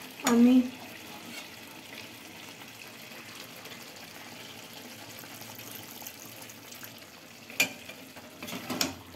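Hot water poured into frying Kasuri Methi chicken in a pan: a loud burst of sizzle at the start settling into a faint, steady hiss, with a few clattering stirs near the end and someone speaking briefly.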